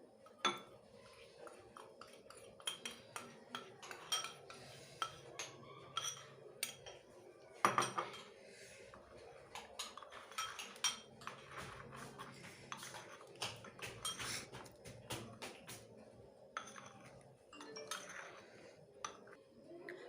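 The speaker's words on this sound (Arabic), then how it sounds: "من بعد ما خلطت الشوكولاته البخاليني مزيان" A utensil stirs melted chocolate mixed with praline in a bowl, giving repeated light clinks and scrapes against the bowl in an irregular rhythm, close and quiet with no voices.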